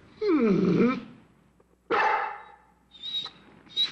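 A dog lets out two deep, gruff barks with a growling edge, separated by a pause, followed by fainter higher yelps or whines.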